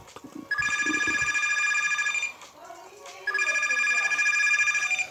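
A telephone rings inside the video game Pizza Factory Tycoon: two long, bright electronic ring bursts separated by a short pause, loud and close, with a little background noise between them.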